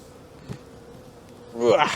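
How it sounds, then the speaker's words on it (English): Honey bees buzz as a low, steady drone during a spring hive inspection after winter, with a nearby voice breaking in near the end. "I'm going to shake the bees off this"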